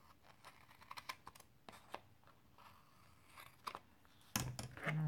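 Scissors snip paper for a homemade photo album notebook, a series of close, crisp clicks and cuts in an irregular rhythm, followed by a louder rustle and handling of the paper near the end.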